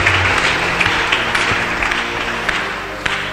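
A church congregation claps in steady, sustained applause to acclaim Jesus during a Sunday service, the sound full and close, with a few sharper bursts rising over the continuous clapping.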